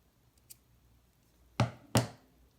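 Scissors cut the tail of a yarn tassel with two sharp, close snips about half a second apart. The surroundings are otherwise quiet.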